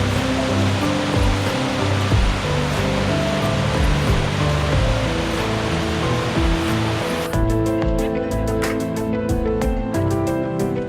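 Mountain creek rushing steadily in light rain along a hiking trail in South Tyrol, a loud continuous broadband wash with faint scattered ticks near the end.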